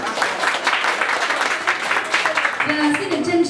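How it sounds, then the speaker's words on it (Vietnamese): An audience applauds at a corporate event, giving dense, continuous clapping at moderate volume, with a voice rising over it toward the end. "xin mời quý vị có thể dành một tràng pháo tay"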